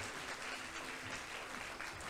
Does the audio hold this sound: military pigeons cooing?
no